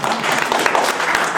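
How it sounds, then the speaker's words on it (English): Audience applause at a political anti-imperialism rally, a dense, steady wash of many hands clapping at close range, loud and continuous throughout. "That deserves an applause"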